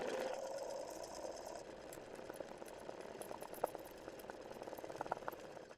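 A sewing machine running steadily while stitching a wide zigzag during free motion embroidery of letters, a continuous mid-level mechanical whir with faint rhythmic ticking throughout.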